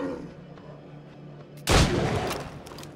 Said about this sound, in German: Mörser.